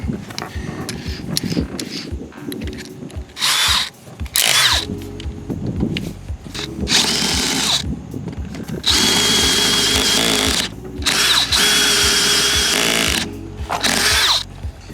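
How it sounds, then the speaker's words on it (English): A power drill whines and grinds in repeated loud bursts with short pauses between, the pitch shifting as it bites into material while boring a large hole. "We're going to drill a really big hole"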